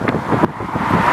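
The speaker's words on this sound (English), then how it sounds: "I know it's awful windy today" Loud wind rumbles and buffets against the microphone at a highway construction project on U.S. Highway 31W, with a low roar of road traffic underneath.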